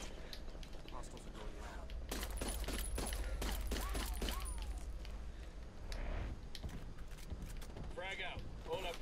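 Artillery and gunfire in the video game Ghost Recon Wildlands, with a rapid run of heavy booming blasts and shots in the middle of a loud battle, while players shout and talk over it.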